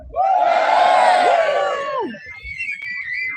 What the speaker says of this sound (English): now a cheer from the crowd